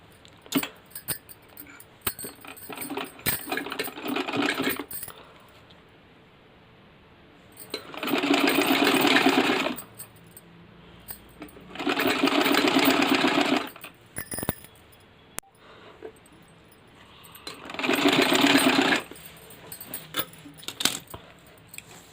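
Sewing machine stitching lace onto the folded hem of a kurti, running in three steady whirring bursts of a few seconds each, with quieter handling clicks and rustles in between.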